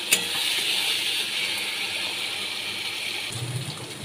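Water from a bowl poured into a simmering Bengali fish curry in a pan, a steady gushing hiss with sizzling that fades and gives way to a lower bubbling near the end.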